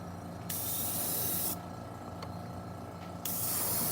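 An airbrush sprays white base coat onto a fishing lure in three steady hissing bursts separated by short pauses, close and fairly quiet.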